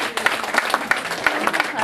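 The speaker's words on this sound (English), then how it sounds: "So let's give her another round of applause." Audience applause after a talk, a short run of scattered claps with a few sharper individual hits standing out, moderately loud against the room.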